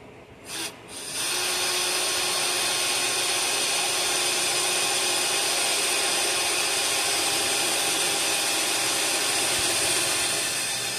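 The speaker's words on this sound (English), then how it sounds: "I'm drilling some holes for some spot welds to put the inner fender piece in." A power drill bores holes for spot welds in a Ford F350 wheel arch repair, a steady whining grind that runs continuously after a brief start, close and fairly loud.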